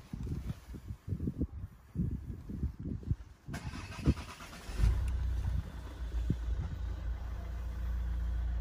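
A Citroen C3 automatic with a three-cylinder engine runs while driving, a low engine drone building after some rustling and knocks, with a steady rumble through the second half.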